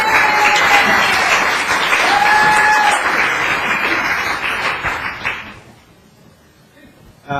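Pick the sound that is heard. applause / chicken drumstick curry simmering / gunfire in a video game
applause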